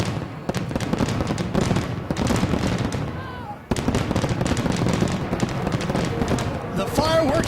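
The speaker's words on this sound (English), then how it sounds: "The fireworks are going off" Fireworks go off at the 2011 Monster Energy Cup supercross event in Las Vegas, a dense run of loud crackling bursts and booms over crowd noise. An announcer talks over it, with a brief break midway.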